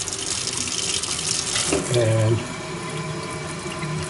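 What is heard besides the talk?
water running from stainless steel sink tap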